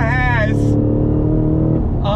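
A 2022 Cadillac CT5-V Blackwing sport sedan accelerating hard, its engine roaring loud and steady as the pitch climbs, with excited voices shouting over it at the start and end.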